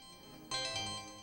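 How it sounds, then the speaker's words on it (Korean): An unanswered phone starts ringing after a short quiet moment, a faint tonal ring with pulsing repeats that continues to the end. "민석에게서 걸려온 전화를 받지 않는 지수."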